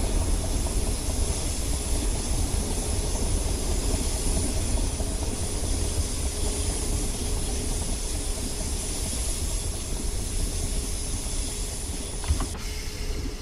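A Network SE electric train in Train Simulator 2019 rounds a curve on the London Bridge to Victoria line, a steady loud rumble and hiss of wheels and motors continuing unbroken throughout.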